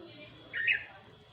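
Bulbul calling from a leafy tree, a single short squawky whistle rising briefly out of soft background noise, moderately distant and fairly faint.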